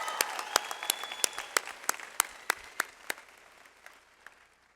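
A burst of clapping from a crowd at a college commencement ceremony after a speech, sharp individual claps standing out, gradually thinning and fading away over a few seconds.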